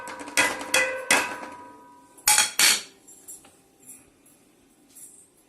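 A metal ladle stirs milk with turmeric, jaggery, dry ginger and pepper powder in a pot: a cluster of sharp, close clinks and scrapes, then a second burst, fading to a few quieter taps.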